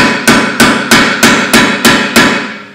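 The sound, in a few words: hammer whacking a part in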